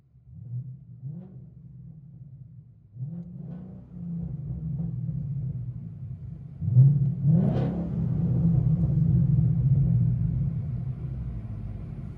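Deep, steady Ford Mustang GT 5.0L Coyote V8 exhaust rumble from inside the car, rising as the engine revs up partway through, then holding a loud throaty drone.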